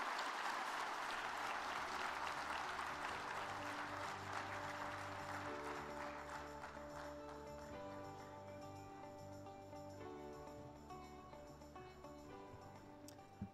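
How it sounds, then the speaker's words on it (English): Conference audience applauding at the opening of a world agroforestry congress, dense hall-wide clapping that starts full and gradually thins and fades over several seconds, with some music-like tones beneath. "Another round of applause for Dr. Balitoro."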